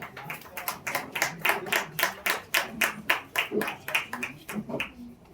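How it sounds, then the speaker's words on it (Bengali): An audience claps for a guest called to the stage at a theatre festival, a crowd of hands beating in a steady, rhythmic unison pulse that stays close and loud for several seconds. "একটু জোরে হাততালি হোক।"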